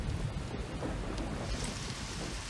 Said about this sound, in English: Okay, it's still raining.